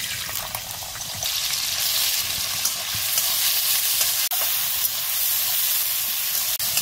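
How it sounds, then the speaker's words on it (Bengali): Beans fry in hot oil in a wok, a steady, close, crackling sizzle with occasional scrapes and clinks of stirring, rising slightly as cooking goes on, with no one speaking. "কড়াই তেল গরম হয়ে গেছে। এর মধ্যে আমি প্রথমে বিনসগুলো ভেজে নেব।"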